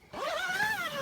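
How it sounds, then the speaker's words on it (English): A single quick zipper pull closes an MSR Nook 2p tent from inside, a close, bright rasp lasting under a second and heard alone. "Easy to zip up from the inside,"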